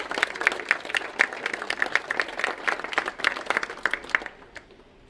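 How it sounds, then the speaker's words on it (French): A small group claps for volunteers at the opening of a campaign office, with distinct, fairly close individual claps in an uneven rhythm that thin out and stop after about four seconds. "Et je pense qu'on peut vous applaudir,"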